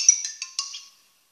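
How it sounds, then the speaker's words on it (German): A WhatsApp message ringtone chimes on a phone, a quick run of four or five bright, tinkling tones that fade out within a second. Nobody talks over it. "mein Klingelton von WhatsApp"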